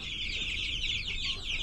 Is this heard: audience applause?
no